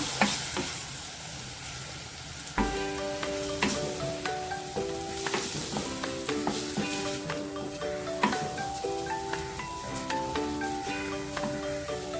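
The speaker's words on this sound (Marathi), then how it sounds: "हे सर्व तेलावर थोडं परतून घेऊया" Spices with chili powder and garam masala sautéing in oil for a green pavta bean and potato curry, a soft continuous sizzle broken by repeated spoon-on-pan clinks and scrapes from brisk stirring, heard up close without talk.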